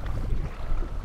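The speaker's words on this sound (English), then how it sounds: "the wind is strong" Strong wind at Lindley Wood Reservoir during long whip fishing: a loud, continuous rushing buffet across the microphone that drowns out everything else for about a second.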